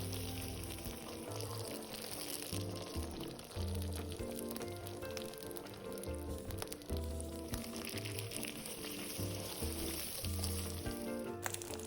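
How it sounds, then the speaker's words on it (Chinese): Shrimp and chive cakes coated in cornstarch and wrapped in tofu skin deep frying in hot oil over medium-low heat, a steady, dense sizzle that runs throughout alongside soft background music. "油热后，再将生坯放入油炸"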